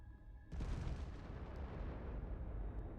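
A mine detonates in the Starfield video game: a sudden, loud booming blast followed by a long, rumbling roar that slowly fades, with no speech.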